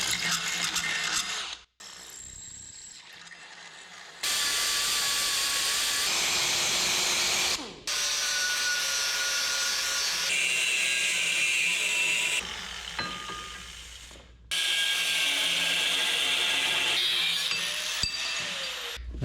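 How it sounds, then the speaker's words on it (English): Power tools cut and drill steel mounts for a Chevy square-body truck build, with several loud sustained bursts of whining saw and drill noise broken by short pauses and shifting pitch, close by with no talking. "We're gonna cut a 2-inch piece, then a 2-inch piece. We're gonna drill one hole, we're gonna drill another."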